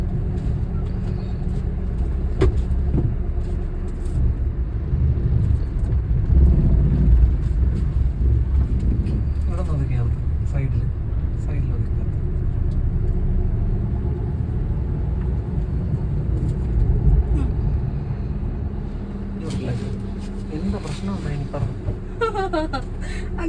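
Car driven during a driving lesson, a steady low engine and road rumble from inside the cabin lasting throughout, with occasional small clicks and knocks.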